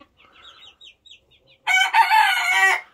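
Roosters and chickens on a small backyard farm: soft, scattered clucks come first, then one rooster bursts into a loud, close cock-a-doodle-doo crow.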